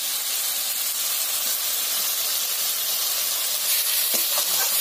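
Water poured into a hot pan of ground turmeric and chili spices while cooking katla fish in a village kitchen, giving a steady, close hissing sizzle throughout, swelling slightly toward the end.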